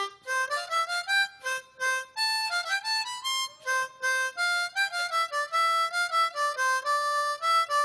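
Minuet in G rings out on a miniature harpsichord, bright plucked notes in a steady dance rhythm, clear and close with no talking.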